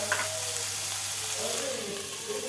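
Chopped vegetables and salt sizzle steadily in a hot pan while being stirred for Kerala-style vegetable upma with green peas, a continuous close frying crackle with no talking.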